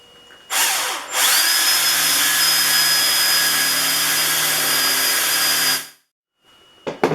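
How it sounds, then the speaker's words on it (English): Close and loud, a power drill bores a hole for a quarter-inch bolt, whirring up and holding a steady high whine for about five seconds before cutting off, followed by a few faint clicks and no talking. "And we will just drill these out."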